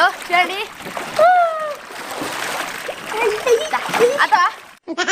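Children splash and play in water in a tub set up at home on a rooftop, bright kid voices shouting and squealing over repeated splashes and sloshing, close and lively throughout.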